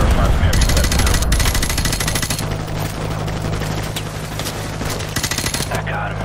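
Gunfire in Call of Duty 4: Modern Warfare Remastered, with loud, rapid machine-gun bursts and single shots rattling almost without pause across a short stretch of battle, beneath occasional voices.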